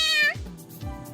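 A person imitates a cat with a single drawn-out meow, a close, clear falling cry followed by a short breathy sound.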